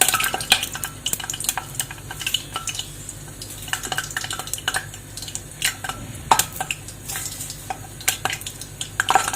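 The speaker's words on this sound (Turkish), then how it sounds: "Şimdi birinci köftemi atıyorum kızgın yağımızın içerisine." Stuffed meatballs (içli köfte) sizzle in hot oil while utensils clatter and scrape against a pan, with irregular clinks over a steady frying hiss.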